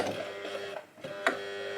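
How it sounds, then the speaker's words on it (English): A sewing machine runs steadily, stitching the shoulder seams of a copper Mardi Gras outfit, with a near, continuous mechanical whir that dips briefly midway and is broken by one sharp click. "Now I'm sewing up the shoulders."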